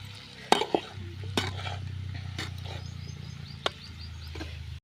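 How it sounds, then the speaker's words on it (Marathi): Ground spice paste for amla pickle being stir-fried in a pan, a steady low sizzle running throughout with a few sharp spoon scrapes and knocks against the pan near the start and middle. "आता यामध्ये आपण जे वाटण केलं होतं ते सर्व टाकून घेऊया. पुन्हा एकदा परतून घेऊया आपण."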